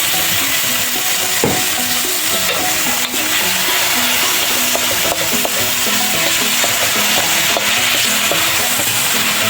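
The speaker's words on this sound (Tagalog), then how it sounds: "Mag-prito muna tayo, mag-isa muna tayo ng karne, guys." Meat fries with soy sauce in a pan, a loud continuous sizzle broken by stirring scrapes and small pops, heard up close with no one talking.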